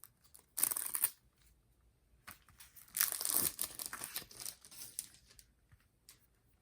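Crinkling and tearing of plastic wrap as a CD single, the Type A edition, is unwrapped. Two close bursts of rustling are heard, the second longer, with quiet handling in between.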